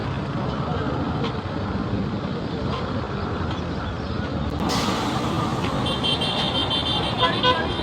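Traffic rolling along a road under construction in Benin City, a dense steady wash of passing cars and trucks with occasional horn toots, while someone talks over the noise.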